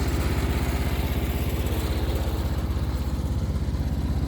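A Cub Cadet 1000 garden tractor engine runs steadily while mowing, giving a loud, close, evenly pulsing drone with no voices over it.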